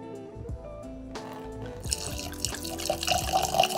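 Early Times bottled-in-bond bourbon poured in one long stream, a steady liquid trickle and drip that grows louder and fuller toward the end of the pour.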